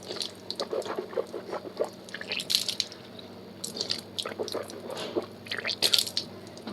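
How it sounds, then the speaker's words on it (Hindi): Water swirled and rinsed in the mouth during the wudu ablution, with wet squishing and dripping sounds in irregular bursts, close and moderately loud. "हमें पानी डालना है मुंह में। इसको कहते हैं मज़मज़ा।"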